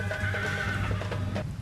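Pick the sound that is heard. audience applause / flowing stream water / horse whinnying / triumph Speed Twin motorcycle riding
horse whinnying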